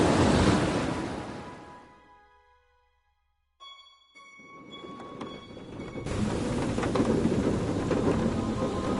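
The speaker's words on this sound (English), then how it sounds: "Outside, the storm raged." Thunderstorm with heavy rain in a video game, a loud rushing downpour fading to near silence, then a brief tonal rumble before the dense rain roars back steadily; no voices.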